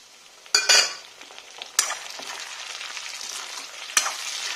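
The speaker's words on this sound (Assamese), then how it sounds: "এইখিনি গলি যোৱালৈকে অকণমান সময় ভাজি ল'ম এতিয়া।" Tomatoes and pork fry in a pan, with a sharp burst of sizzling and utensil clatter as they go in, then a steadier crackling sizzle, a few more stirring knocks and a final loud hiss.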